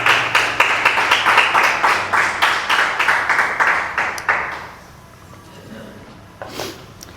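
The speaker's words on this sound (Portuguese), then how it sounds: "Você pode aplaudir o Senhor" Church congregation clapping together in a steady rhythm for about four seconds, the claps loud and close, then dying away into quiet room tone with a faint stir near the end.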